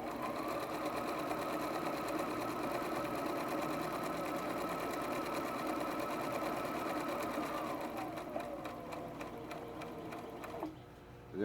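A sewing machine stitches a drawstring pouch, running continuously with a fast, even mechanical stitching rattle, then slows and stops near the end.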